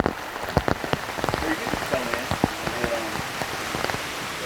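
A sudden rain shower pattering onto surfaces during a fishing outing, dense close drops with sharp, irregular splats over a steady wash of noise, and faint voices in the background.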